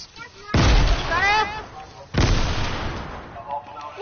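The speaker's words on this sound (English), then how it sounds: "there are people here throwing grenades!" Grenade explosions and gunfire in a video game: two heavy booming blasts land about 1.5 seconds apart, each followed by a rumbling decay, while a voice talks excitedly over the first one.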